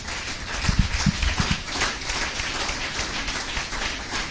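A church congregation applauds and cheers in praise of God, a broad wash of clapping with a few heavy close claps early on, continuing steadily without distinct speech.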